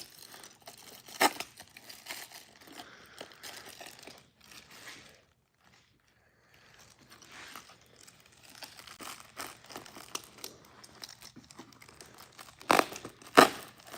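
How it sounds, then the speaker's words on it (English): Taped cardboard viewer-pack toy package being cut and torn open, with repeated close crinkling, crackling and tearing and a brief quiet pause partway through, then sharp louder rips near the end. "Make sure it's kind of down here at the other end before I get to cutting."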